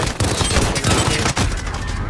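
Gunfire rattles in a shooter video game, with dense, loud bursts of rapid shots and booms filling the whole moment, close and unbroken apart from a brief dip.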